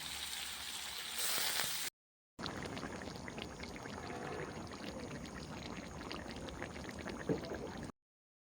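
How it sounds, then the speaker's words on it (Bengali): Soaked chickpeas go into a pan on a clay stove, making a brief pouring rush followed by a soft crackling, rattling settle that continues at moderate level. "ছোলাগুলো দিয়ে দেবো ভিজিয়ে রাখা ছোলাগুলো"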